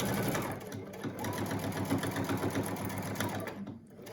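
Sewing machine stitching a surgical mask over its elastic, a continuous close rapid whir running nearly the whole time before easing off at the end.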